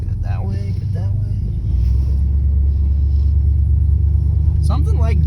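A 1982 Chevy Silverado pickup's engine rumbles steadily while driving, a loud low drone that builds slightly partway through, with voices talking over it.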